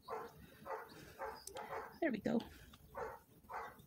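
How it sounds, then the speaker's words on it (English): A neighborhood dog barks repeatedly in the background at a steady rhythm, about eight muffled barks spaced roughly half a second apart, with a brief louder whimpering yip in the middle and a short spoken phrase nearby. "there's a barking dog in my neighborhood"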